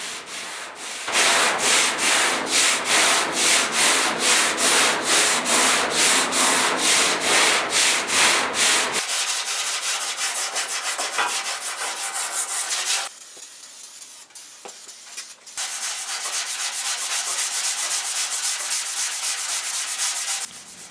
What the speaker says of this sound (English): I'm starting the sanding with 80 grit, which seems to be working the best for me.